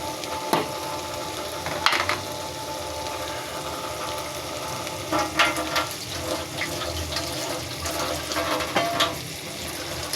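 Bottle gourd goes into a pan of fried spices and small shrimp, giving a steady close sizzle broken by clattering stirs and scrapes.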